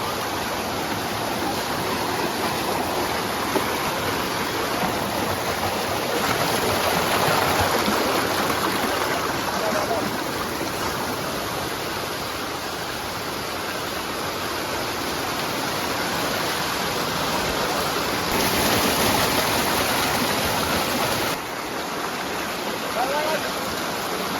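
A waterfall near Mahakali temple pours water over rock in a constant, loud, broadband roar. The roar stays close and steady for the whole stretch, with slight surges in level and no talking heard over it.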